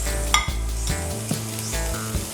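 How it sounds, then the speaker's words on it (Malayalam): Chopped medium tomatoes drop into a pan of frying onion masala with spices, giving a steady close sizzle with scraping stirs and a few light metallic clinks of a spoon against the pan. "അത് ചെറുതായിട്ട് മുറിച്ച് ആണ് ഇടുന്നത്."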